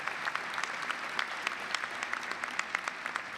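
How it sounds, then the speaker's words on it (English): Applause at a Northeastern law school commencement, honoring faculty and staff: a steady wash of many hands clapping from a large audience, dense and even throughout with scattered sharper claps, no talking. "I want a round of applause for the faculty and staff of this wonderful law school at Northeastern"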